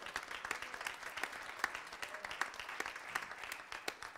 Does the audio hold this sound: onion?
no